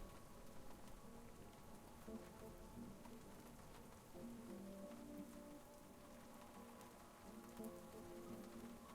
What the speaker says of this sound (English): It's raining over there.